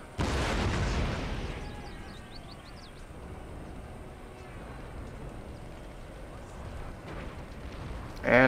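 Cannon fire strikes a fortress wall in the Empire Total War video game, a loud booming blast at the start fading into a low rumble, with faint distant shots and a voice briefly talking over it near the end.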